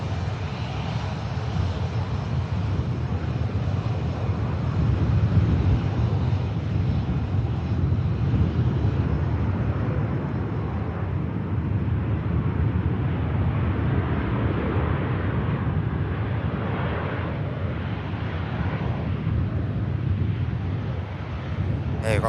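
A Ryanair airliner lands at Manchester Airport: a distant, continuous jet rumble that holds steady for about twenty seconds, with wind buffeting the microphone throughout.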